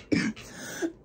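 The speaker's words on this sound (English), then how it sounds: "I am so sorry for this darn cough." A woman gives a short, hoarse cough, a couple of quick rough bursts followed by a smaller throat sound, close to the microphone.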